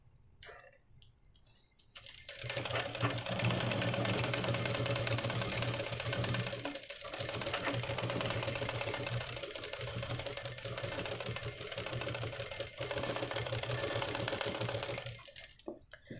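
A sewing machine runs steadily for about thirteen seconds, stitching close along the edge of fabric for an umbrella dress, with a constant motor hum and mechanical whir; quiet before and after.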